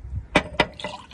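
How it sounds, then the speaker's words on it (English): Water poured into a cup in a short burst of splashing gurgles, two quick pulses followed by a softer trickle, close and brief, with faint background noise and no talk. "So first we'll put in the water."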